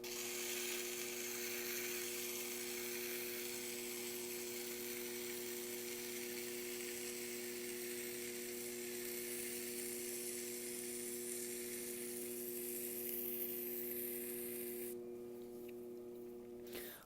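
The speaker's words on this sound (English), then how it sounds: "I do the shaping with this metal rib, just scraping off a little bit at a time." A metal rib scrapes clay away bit by bit while trimming a pottery bowl on a spinning wheel, producing a faint continuous hissing scrape over a steady motor hum, with no one speaking.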